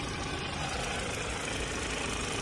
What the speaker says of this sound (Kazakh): моторда сөз жоқ, аз пробегпен, аз жүріспен сағат секілді істеп тұр